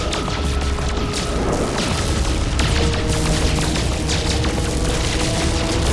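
Spaceship cannons fire in rapid, continuous bursts during space combat in No Man's Sky, a dense, loud barrage of booming and crackling blasts with a steady droning hum underneath and no pauses.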